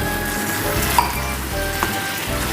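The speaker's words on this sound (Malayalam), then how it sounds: "ഒന്ന് ഇളക്കി കൊടുക്കാം ഒന്ന് വറ്റിക്കോട്ടെ" Banana pieces simmering in jaggery syrup with thick coconut milk in a pan make a steady bubbling sizzle close by, with a couple of light stirring touches and no talk.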